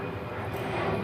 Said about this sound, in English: Yeah, that's an airplane.